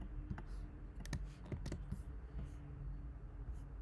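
Soft, quick keystrokes on a computer keyboard while a password is entered, a close, quiet run of irregular clicks against a faint background hum.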